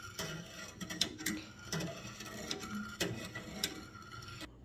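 A whisk clicks and rattles against a pot on the stove while sugar dissolves in water for hummingbird feeder food. The strokes come in quick irregular bursts with soft clinks, close but faint, and no one talks.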